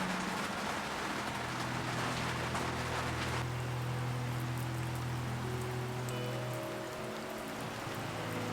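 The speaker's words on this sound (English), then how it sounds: "The rain was clearly going nowhere" Steady rain drums on the roof of a narrowboat moored in a market town during winter flooding, a dense continuous patter with a low hum beneath, close and even throughout.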